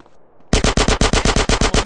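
Rapid automatic gunfire from a weapon in the video game GTA San Andreas bursts in after a quiet moment, loud steady shots in a fast even rhythm of about eight per second, with no talk.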